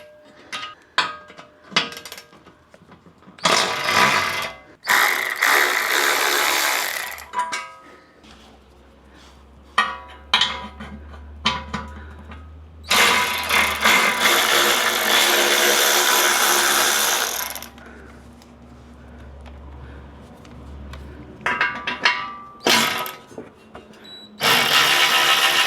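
A power tool spins the skid plate bolts off a Jeep in several loud, rasping bursts, some long and some short. Metallic clatter and a low steady hum fill the gaps between them.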